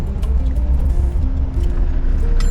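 Stop-and-go traffic in a jam on the road toward Duren Sawit, Jakarta, heard from inside a car: a constant low engine and road rumble with passing vehicles and a faint hiss, no voices.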